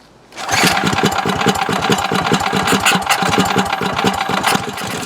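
A Yerf Dog 3203 go-kart engine, started on full choke, runs at a steady idle close by, with a rapid, even chugging pulse after a short quiet start.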